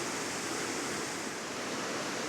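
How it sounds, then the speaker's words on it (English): Steady, full roar of Indian Creek Falls, a waterfall in the Smoky Mountains, heard close up as a dense continuous rush with no breaks. "Indian Creek Falls is nowhere near as tall as Tom Branch Falls, but it's much more impressive in person than the previous falls"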